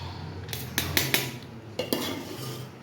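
Hot rice being served at home with metal utensils and dishes: a handful of sharp clinks and scrapes of a spoon against plates and pots, close and fairly quiet, with soft rustling between.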